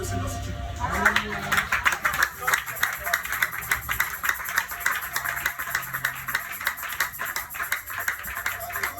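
A church congregation claps rhythmically in praise during a lively worship service, steady rapid hand claps mixed with voices and background music throughout.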